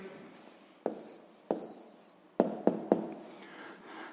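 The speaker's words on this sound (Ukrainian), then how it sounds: "Записуємо тоді відповідь" A pen writes an answer by hand on paper during a sixth-grade maths exercise, with a few distinct taps and short scratchy strokes, close and quiet.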